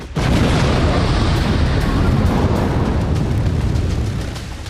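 A massive GBU-57 Massive Ordnance Penetrator bunker-buster bomb detonates in a loud, sustained roaring blast that rumbles steadily for several seconds before tapering off, with no speech.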